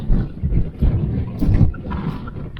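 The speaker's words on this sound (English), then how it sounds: "Wind, oh my." Gusty wind buffets the microphone outdoors in Greece in uneven low rumbling surges, loud and close, rising and falling over a couple of seconds.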